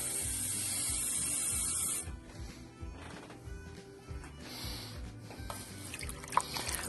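Water poured from a cup into a pot holding a frozen roast, a steady hissing splash for about two seconds, then softer dribbles and trickling as the pour tapers off.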